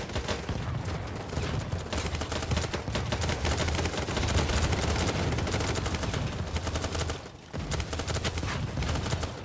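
Rapid automatic fire from a PP2000 submachine gun in the shooter game BattleBit Remastered, a loud, dense and sustained burst of shots with a brief gap near the end before firing resumes.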